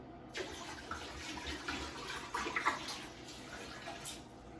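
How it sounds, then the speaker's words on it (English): Vinegar poured from a bottle during a bathroom clean gives a steady watery splash and gurgle that runs for several seconds, close by and moderately loud, with a few brief louder spurts partway through. "But it's just regular vinegar, just pour it in."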